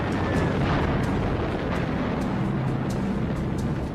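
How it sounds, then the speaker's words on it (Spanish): World War II bombs falling on Tokyo, dropped by low-flying American bombers near the Imperial Palace: a dense, continuous rumbling roar with faint repeated muffled bursts, like distant archival recording. "Bombarderos norteamericanos volando bajo sobre Tokio lanzaron bombas sobre la ciudad"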